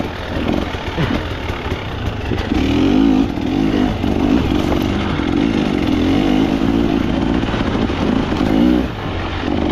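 A KTM motorcycle rides over rough ground, its engine droning steadily with a few swells where the rider accelerates, loud and close throughout.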